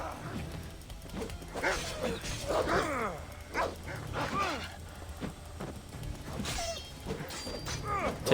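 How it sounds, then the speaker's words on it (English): A wolf in a video game growls and barks in a quick run of close, loud yelps and snarling barks, with whimpering cries between them over a steady background hum. "Take that, wolf."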